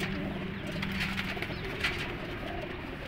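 Pigeons, including pied-marked birds kept by a fancier, coo softly and continuously at close range, a low murmuring throughout with no talk over it.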